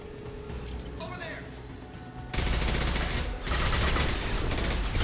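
Rapid gunfire while shooting enemies in the Mass Effect 2 video game: a dense, loud burst of shots erupts partway through and continues with a brief dip, with someone talking over the action beforehand.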